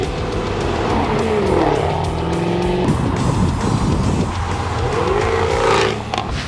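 A D-Type inspired carbon fiber car with increased horsepower drives on a concours lawn, its engine roaring loud and close and rising and falling through revs, with a brief tire squeal.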